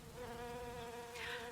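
Buzzing of a swarm of flies, a close, steady droning hum with a wavering pitch, a rising whir near the end.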